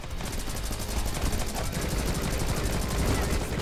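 Relentless rapid gunfire from the side-scrolling game Rocketbirds: Hardboiled Chicken, a loud, dense stream of evenly spaced shots running without a break.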